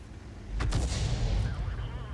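A heavy artillery shot from the Conqueror Gun Carriage self-propelled gun in World of Tanks booms once, then rolls into a long rumbling tail that fades slowly under a commentator's voice.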